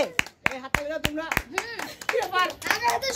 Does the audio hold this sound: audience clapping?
yes